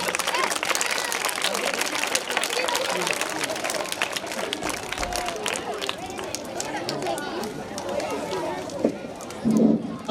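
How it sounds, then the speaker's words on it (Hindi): A crowd at a school event claps steadily to welcome a speaker, Ejaz sir, for the whole stretch. The dense, sustained clapping mixes with background chatter and voices. "जोरदार तालियों के साथ जनाब एजाज सर।"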